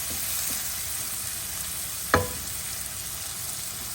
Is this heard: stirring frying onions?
yes